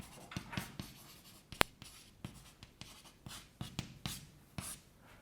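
Chalk or marker scratches across a board during a general relativity lecture, tapping out short irregular strokes and dots with one sharp knock, close and fairly quiet, with no speech.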